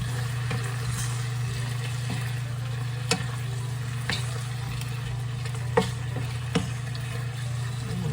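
Soy-sauce-seasoned food frying in a pan while being stirred at home for a Japanese-style dinner, a steady low sizzle with a few sharp utensil clicks and scrapes scattered through, no talking.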